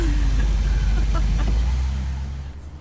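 A vintage car with a non-original engine runs close and loud, giving a steady low rumble with a brief squeal near the start, then gradually fading as it moves off.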